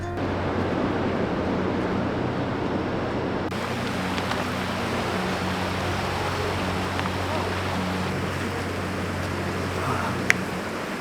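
Water rushes at a stream crossing near Hanakapiai Beach on the Kalalau Trail in Hawaii, a broad continuous roar with surf and wind mixed in, heard up close and steady.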